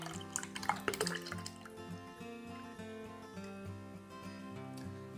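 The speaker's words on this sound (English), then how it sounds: "Take your vinegar and milk concoction and pour it into your measuring cup." Milk and vinegar mixture poured into a measuring cup in a home kitchen, a close trickle and splash of liquid with drips at the start, then a soft continuing flow.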